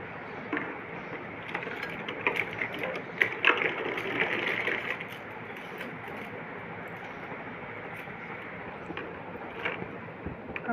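A sewing machine stitches cloth for a kachli with a steady mechanical chatter and ratcheting clicks, close by and moderately loud, busier in the first half and then settling into an even run.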